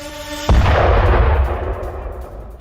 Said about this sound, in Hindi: ड्रोन अटैक के बाद जोरदार धमाका होता है और धमाके की आवाज भी सुनी जा सकती है।